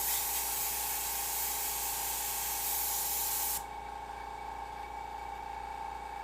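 An airbrush hisses steadily and close while laying down light coats of paint, then the spray tapers off to a softer, fainter airflow partway through.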